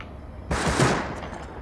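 Gunfire in the survival video game Rust: a sudden loud burst of shots that starts abruptly and then trails off into a decaying echo, with no talk over it.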